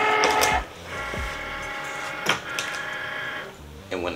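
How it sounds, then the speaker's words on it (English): A Cricut Maker cutting machine takes in a mat loaded with glitter vinyl, giving two stretches of steady mechanical whirring broken by clunks and clicks of the mat feeding through. "now we'll go ahead and get this placed into our Cricut maker"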